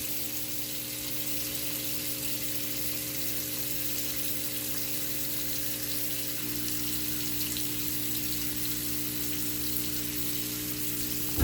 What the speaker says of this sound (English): We're gonna open the faucet to see if the clog has now been remedied.